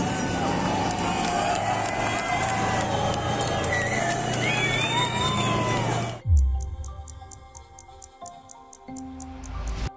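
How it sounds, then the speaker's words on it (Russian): A crowd of Rostov residents cheers and applauds as a Wagner tank rolls out of the circus gates, a thick outdoor roar for about six seconds before cutting abruptly to sparse sharp clicks and a low thump. "Жители аплодируют."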